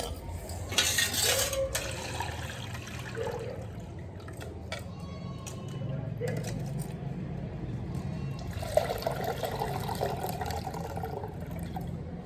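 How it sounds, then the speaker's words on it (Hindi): Lentils are swished and rinsed in water in a home kitchen, with bursts of pouring and filling, sloshing and splashing, some dripping in between, close and fairly loud, with no speech. "और फटाफट दाल धुल लें"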